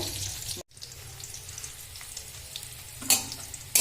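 Beans, capsicum and carrot fry lightly in a pan for fried rice, a steady sizzle broken by a short silence early on and a few sharper stirring clatters near the end.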